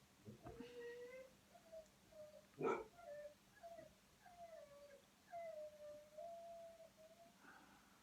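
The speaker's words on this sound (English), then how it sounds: "these are my sister's dogs I'm looking after" Dogs give thin, drawn-out whimpers and whines, faint and wavering, with one short sharper yelp near the start and quiet gaps between the cries.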